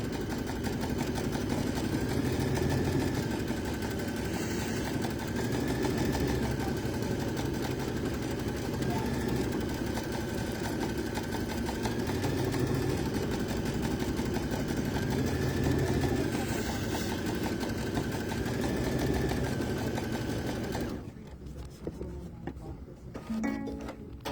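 A sewing machine tacks down a seam on a fabric Valentine swirl coaster, giving a steady, continuous motor whir with a rapid needle rhythm for about twenty seconds before stopping abruptly near the end.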